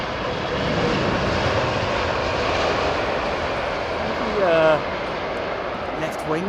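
Airliner landing at Heathrow in a crosswind, a sustained jet engine roar with a brief rising whine and a short bump partway through, heard at moderate distance with a voice speaking over it.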